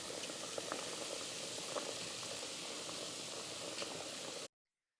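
Metal furniture hardware boils in a pot of water on high heat, a steady rolling bubble and hiss with faint clinks, close and continuous until it cuts off.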